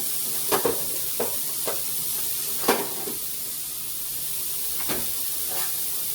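Chicken pieces and cauliflower with thyme start cooking in a pan, a steady bright sizzle and hiss with several soft utensil taps and stirs scattered through.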